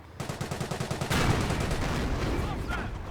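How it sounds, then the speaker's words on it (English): A Panzer tank firing in the World War II strategy game Company of Heroes, starting as a rapid train of gunfire and then swelling into a loud, sustained blast and rumble. "Notice the Panzer's slow rate of fire."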